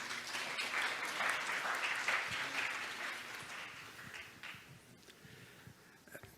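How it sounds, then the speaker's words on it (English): Audience applause at an international development conference session, a full round welcoming the moderator to the floor, loud and dense at first, then thinning and fading over several seconds. "please welcome him with a big round of applause"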